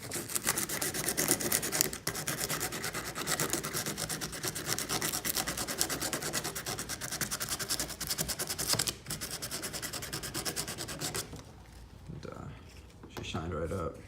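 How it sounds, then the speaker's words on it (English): Sandpaper is rubbed back and forth on a pitted car battery terminal in quick, steady rasping strokes close to the microphone, briefly pausing then resuming more softly near the end. "hit it with some sandpaper"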